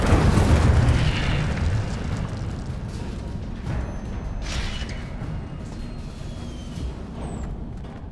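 An Incendio fire spell from the video game Hogwarts Legacy goes off as a loud booming blast that rumbles and fades over several seconds, with faint mechanical creaks behind it.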